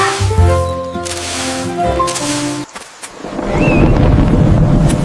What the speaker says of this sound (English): There's lots of rain.